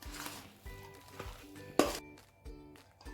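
A spoon clinks and scrapes against a metal bowl while spice masala is stirred together, giving several close, clattering knocks spaced out over a few seconds.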